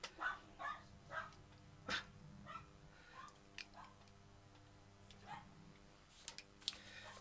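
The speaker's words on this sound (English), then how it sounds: "You may have heard my dog's decided there's someone at the door." An indoor house dog barks at someone at the door, with a scattered series of sharp barks and a few whimpers at moderate distance, irregular and spread out over a quiet room.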